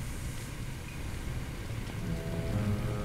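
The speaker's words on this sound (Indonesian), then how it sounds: "Wah, hujannya sih parah banget" Heavy rain in a firefighting simulator game, a dense steady hiss with a low rumbling bed, constant and fairly loud across the whole stretch. No voices over it.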